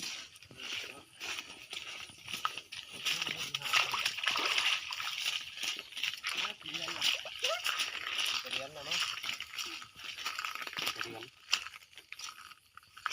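Continuous splashing and sloshing of stream water as someone wades through a creek while setting frog-fishing hooks, close and busy, with people talking over it.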